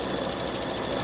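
An embroidery machine stitches small highlight lines inside the beard of a Thanksgiving gnome appliqué. The needle chatters in a rapid, steady, even rhythm, close and continuous.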